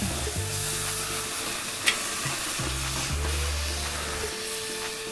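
Lobster with garlic sizzles and fries in a pan, a steady crackle with a brief scrape and clack partway through as the lobster is flipped over.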